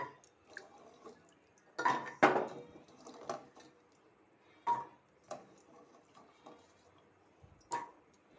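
Washed jackfruit seeds dropped into a pressure cooker make scattered light clicks and clatters, quiet and uneven, with a few louder knocks among softer taps.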